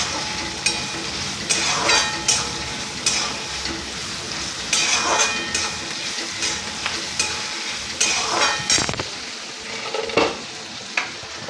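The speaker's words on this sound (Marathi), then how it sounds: "भाजून घेऊया छान तेलामध्ये।" Food frying in hot oil in a pan over high heat, a steady sizzle broken by repeated scraping stirs of a spoon against the pan at irregular intervals, close and fairly loud with no talking.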